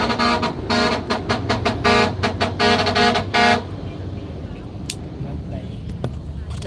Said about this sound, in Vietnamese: nó kẹt xe đó các bạn ơi, kẹt xe thấy ghê luôn nè